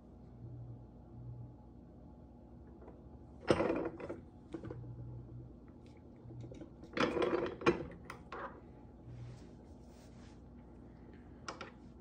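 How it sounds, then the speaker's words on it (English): A 90% silver 1944 Washington quarter is pressed into a coin ring with a 17-degree folding die, giving a few short creaking, grinding mechanical bursts over a low steady hum. "now we're gonna go and use a 17-degree die to continue folding."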